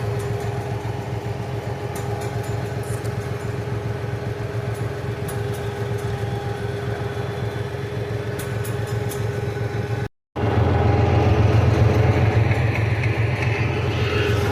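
A 706 tractor engine idling, a steady low rumble that holds constant and close, briefly cutting out before resuming slightly louder, with no talking.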